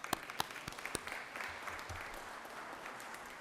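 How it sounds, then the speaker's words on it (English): A legislative chamber in the Georgia Senate breaks into applause for an honored guest: a few loud, distinct early claps quickly blend into a softer, continuous wash of clapping from a room some distance away. "Let's give him a round of applause"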